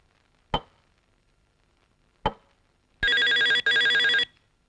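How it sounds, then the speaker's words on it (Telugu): An electronic telephone ring bursts twice in quick succession, loud and close, after two sharp knocks or clicks in an otherwise quiet room. "వేళాపాడా లేకుండా ఫోన్ చేస్తూ ఉంటారు."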